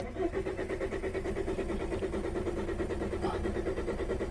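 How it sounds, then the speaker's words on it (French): A Ford Focus 1.8 TDCI engine with a fuel regulation electrical fault cranks with a steady rhythmic whirring churn that continues without catching, fairly close and moderately loud. "Maintenant on a un véhicule qui démarre plus, on va vous montrer en direct"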